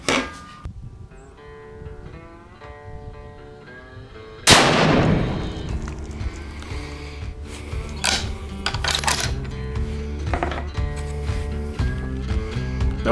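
A series of sharp, loud rifle shots from a 25 Creedmoor firing Berger 135 Hybrid loads, the first crack sudden and booming after a quieter stretch, followed by ringing echoes and clattering handling noises.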